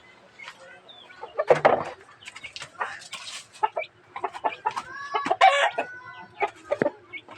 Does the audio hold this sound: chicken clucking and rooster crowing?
yes